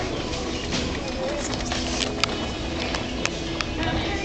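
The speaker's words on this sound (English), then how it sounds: "Okay, guys, the birds are just up here. There's the birds." Birds chirp and call in a Petco pet store, with scattered short tweets over a busy, steady indoor background murmur of store noise and voices.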